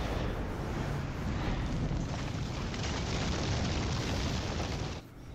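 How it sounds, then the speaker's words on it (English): A gas tank explodes at a gas station in Gears of War on Insane difficulty, giving a loud, sustained roaring blast with dense rumble that holds steady for about five seconds before cutting off abruptly. "Blow up their gas tank"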